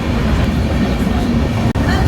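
A passenger train runs past a rail level crossing, a loud, steady rumble of wheels and carriages with rhythmic clatter filling the whole stretch and a brief dip near the end.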